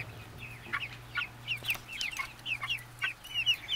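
White Jersey Giant chickens cluck in a rapid series of soft, close, chirpy calls over a quiet low hum, with no talking.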